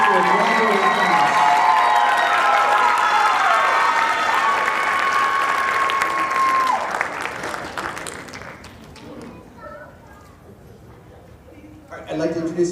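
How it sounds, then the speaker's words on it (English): At a high school band spring concert, the audience claps and cheers for the Eastern High School graduating class, loud dense applause with whoops and a sustained tone over it, fading into scattered claps and chatter before a brief swell. "Can we just give one gigantic round of applause for all of our Eastern High School graduating class."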